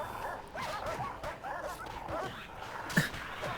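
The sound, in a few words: guard dogs barking in video game Prison Architect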